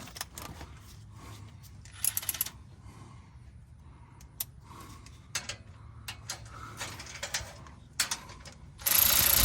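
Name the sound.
ratchet tightening Camaro exhaust bolts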